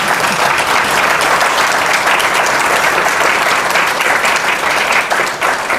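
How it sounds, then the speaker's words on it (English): Sustained applause from an audience at a panel discussion on health equity in Milwaukee, thanking the panelists; dense, loud clapping holds steady throughout with no voices over it. "If we can give them a round of applause for their insight."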